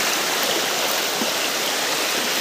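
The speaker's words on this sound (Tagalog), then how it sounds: "So medyo malakas na rin yung tubig dito sa sapa namin." A creek flows strongly, giving a steady, dense rush of water that stays even and continuous throughout, with no voices.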